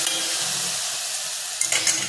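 Potato and prawns sautéing in hot oil for a Konkani prawn chutney, a loud continuous sizzle and crackle throughout, with a few brief utensil clinks near the end.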